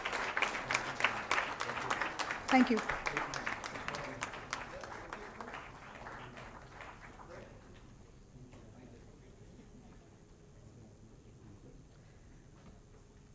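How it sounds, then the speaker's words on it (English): An audience at an award ceremony on innovative technologies applauds the awardees, crisp clapping that starts strong and gradually thins and fades; someone briefly speaks over it. "Can we have one more big round of applause for all the awardees"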